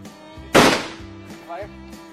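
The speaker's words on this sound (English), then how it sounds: "In the mountains, we shoot air rifle." An air rifle fires once at a potato target outdoors in the mountains, a single sharp close crack with a short decay, followed by faint quieter sounds.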